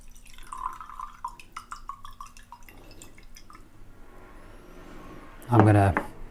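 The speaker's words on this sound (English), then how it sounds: "I'm just going to pour out the vinegar." Vinegar poured out of a glass lab flask holding steel wool, a short splashing pour near the end after quiet background noises and faint drips.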